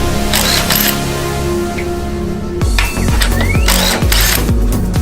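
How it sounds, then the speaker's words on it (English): Impact driver hammering on Polaris RZR shock bolts, several short loud bursts of rapid ratcheting impacts with spin-down whirs, close up, with a steady mechanical hum running underneath. "Impact driver, always helpful."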